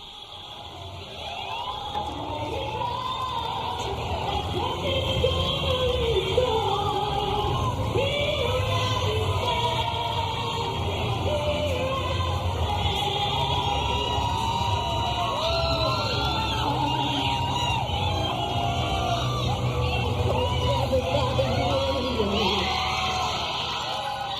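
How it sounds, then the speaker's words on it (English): A parade crowd cheers, whoops and yells for Olaf behind a float, the shouting rising and falling in bursts over live singing and music, with voices mixed throughout. "they're cheering for Olaf behind the back end of that float"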